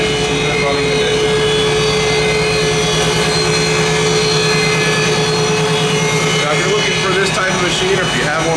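A used 18-inch Strasbaugh Model 7X glass grinder and production generator runs with its vacuum pump, making a loud, steady mechanical drone with a constant tonal whine that continues unchanged throughout.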